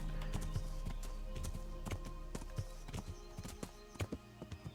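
Horse hooves clip-clop in a steady, close rhythm on a medieval road in Kingdom Come: Deliverance, the beats loud and distinct with a low hum beneath them and no talking.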